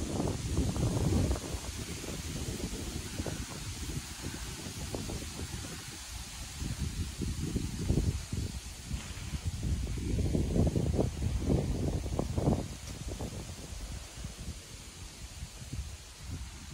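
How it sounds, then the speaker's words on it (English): Strong autumn wind at Douglas Dam in Tennessee blows in loud, uneven gusts, with heavy microphone buffeting and a soft rustle of leaves underneath that rises and falls throughout. "It is very windy today."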